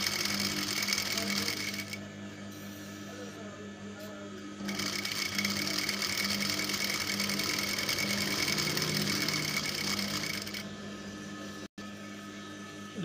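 Sewing machine stitching a child's skirt with elastic pulled taut, a steady close mechanical whir in two long runs with a brief pause between them, and no talking over it.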